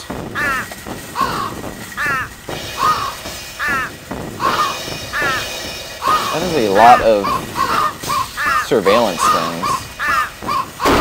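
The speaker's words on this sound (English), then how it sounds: "And now there are birds." Crows caw repeatedly throughout a scene in the video game Thirty Flights of Loving, loud harsh calls in irregular bursts, with a voice talking over them.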